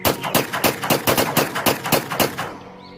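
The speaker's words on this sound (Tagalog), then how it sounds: "pumutok ang isang baril. At dahil doon, nagsimula na ang putukan." Rapid bursts of gunfire crack out in a fast, regular volley for about two and a half seconds, loud and close, then fade into a short echoing tail, set in a narrated story about soldiers at a camp.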